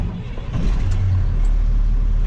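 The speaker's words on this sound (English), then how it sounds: "I'm gonna start the truck." A truck engine starts during a CDL Class B pre-trip inspection, a brief crank then a low, loud, steady idle rumble that settles in and holds.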